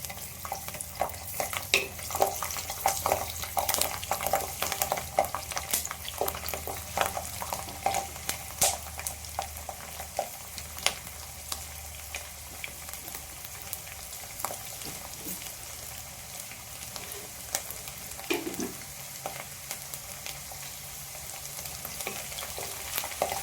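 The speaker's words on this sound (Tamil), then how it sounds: "ஜீரகம் சேர்த்துட்டு அது பொரிஞ்சு வர நேரத்தில் பூண்டு சேர்த்துக்கணும்." Cumin and garlic fry in oil for fenugreek kuzhambu: a soft, constant crackling sizzle heard close but fairly quiet, with occasional sharp pops and light stirring clicks.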